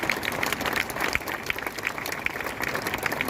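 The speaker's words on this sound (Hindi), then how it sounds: "इनके लिए जरा एक बार जोरदार तालियां बजाइए" A crowd applauds at a Hindi comedy poetry gathering, with steady, moderately loud clapping that holds throughout without speech.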